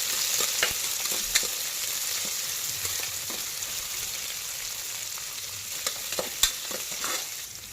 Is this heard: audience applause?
no